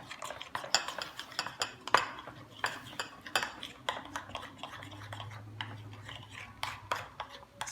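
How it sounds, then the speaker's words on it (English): A utensil stirs sapin-sapin batter of ube, langka and pandan in a bowl, making steady clinking and scraping taps with a quick uneven rhythm, close and clear. "just mix that in"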